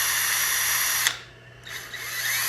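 A power drill runs steadily while boring a hole in a plastic 3D printer part for an Ender printer's Z belt tensioner. The motor whine is close and even, breaks off briefly, then starts up again.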